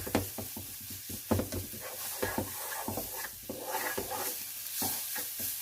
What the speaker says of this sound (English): we're going to cook this flour with the onions and the garlic that's already in here